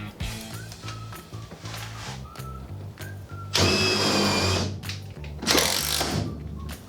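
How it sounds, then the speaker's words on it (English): Power drill driving a screw through a wood furring strip into the metal body of a school bus conversion, whirring motor bursts that rise and drop, with a loud grinding surge midway and another near the end. "you can actually put the screw on in reverse to kind of bore out the wood"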